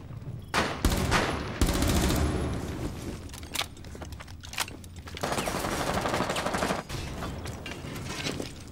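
Automatic gunfire in the game Rainbow Six Siege rattles in loud, sustained bursts mixed with single sharp shots, close and dominant, with brief gaps between volleys.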